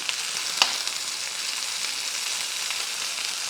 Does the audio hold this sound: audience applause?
no